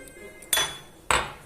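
A utensil clinks against a bowl while corn flour and water are mixed into a paste, with two distinct sharp metallic knocks about half a second apart, each ringing briefly.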